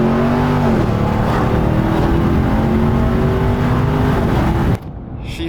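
A 707hp Ram TRX truck accelerating at full throttle from a slow roll, a loud, sustained engine roar heard from inside with rising tones through gear changes, cutting off abruptly near the end.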